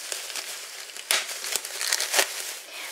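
Kraft paper sachet bags crinkle and rustle as they are unpacked from a parcel, close and steady, with a few sharper crackles standing out from the continuous handling noise.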